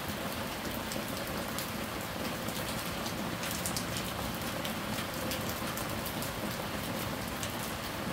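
Heavy rain pours down steadily outdoors, a dense, loud, continuous hiss of drops hitting surfaces with no break, close and enveloping throughout.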